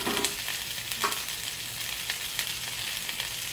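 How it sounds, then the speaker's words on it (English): Honey garlic pork chops sear in a hot, popping pan, a steady broadband sizzle with scattered sharp crackles and spits, close and moderately loud throughout with no talking. "These here are probably going to sear pretty quick."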